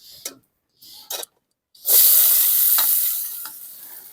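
Chopped onion dropped into hot oil with whole cumin tempering, some short scrapes and knocks and then a sudden loud close sizzle that hisses steadily and slowly fades while being stirred.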